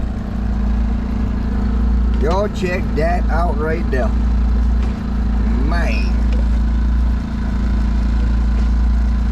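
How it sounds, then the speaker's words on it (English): Generator running at a boat campsite on Lake Verret in south Louisiana, a steady loud low hum that persists throughout, while someone talks over it briefly in the middle. "Y'all just excuse the generator noise."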